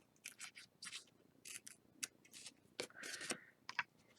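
Scissors cutting openings into a handmade card, a string of quiet, close snips and papery rustles in short bursts, one longer cut near the end.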